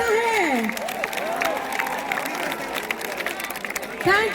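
Applause from the audience at a live Bollywood concert in Delhi, a dense, steady wash of clapping and crowd noise lasting throughout, with a voice carrying over it at the start.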